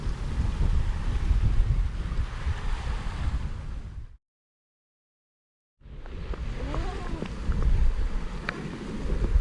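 A sailboat under sail in rain and strong wind along the eastern side of Koh Tarutao, with loud, steady rushing wind and water noise that drops out briefly in the middle before returning.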